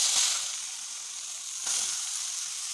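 Papaya pieces sizzle in hot oil seasoned with panch phoron, a steady close frying hiss with a fresh burst partway through as more is stirred in; no voices.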